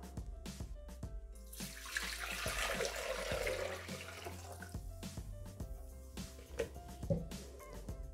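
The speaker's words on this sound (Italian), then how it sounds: "mettere l'acqua" Water runs steadily into a Thermomix TM6 mixing bowl, a continuous splashing pour that swells in the middle and is joined by a few faint clinks and knocks.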